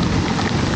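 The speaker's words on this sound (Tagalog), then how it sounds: "Grabe lakas ng ulan." Heavy rain pours during a sudden downpour in Quezon City, a dense, steady, loud roar of falling water with no pauses.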